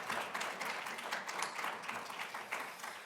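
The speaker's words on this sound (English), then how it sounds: "How about another round of applause for our panelists and speakers today?" An audience applauding for the panelists and speakers at the close of a transportation conference session, a steady, moderately faint wash of many hands clapping that lasts the full stretch.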